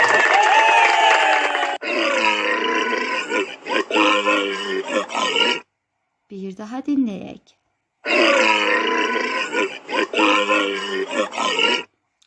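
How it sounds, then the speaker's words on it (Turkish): Deep, rough walrus grunts in long loud stretches, repeated twice with a short spoken line in the middle. "Bu Morse'du."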